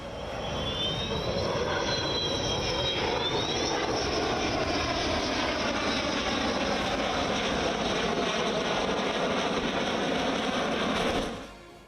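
Fighter jets such as Sukhoi, Mirage, Jaguar, MiG-29 and Tejas fly over Hindon airbase in Ghaziabad during an Air Force Day full dress rehearsal, a loud sustained roar that holds steady for about eleven seconds before cutting off.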